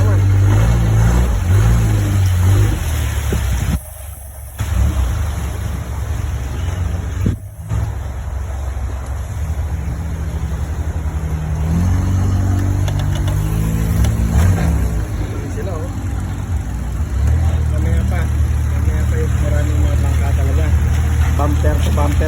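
A longtail boat fitted with a car engine, a Fortuner unit, roars loud and close at a floating market in Thailand, droning steadily with two brief cuts and people talking over it.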